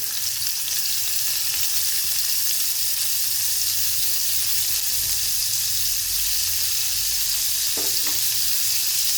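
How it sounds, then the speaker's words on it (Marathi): Paneer cubes frying in a pan for dhaba-style paneer masala, a steady, close, continuous sizzle throughout with a couple of brief scraping touches near the end, no voices. "तोपर्यंत आपण पनीरला फ्राय करून घेऊ"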